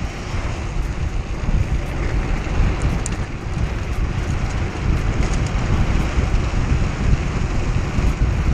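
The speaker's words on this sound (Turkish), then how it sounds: "O nasıl rüzgar" Strong wind buffeting the microphone outdoors during a motorcycle wheelie outing with friends, a loud, continuous roaring rush that fills the whole stretch without letup.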